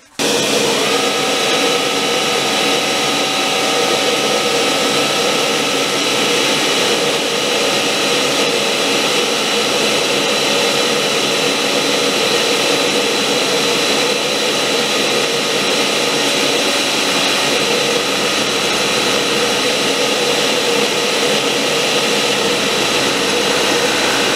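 Perspex part being machined with a vacuum cleaner running alongside to clear chips: a loud, continuous whining roar that holds steady throughout, with no talking.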